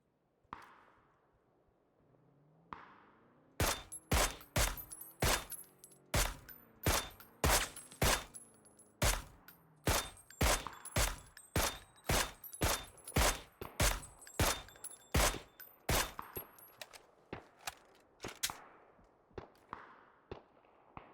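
Rapid bursts of distant gunfire in PUBG crack out in quick succession, loud and sharp, with brief gaps between volleys and a quieter lead-in at the start.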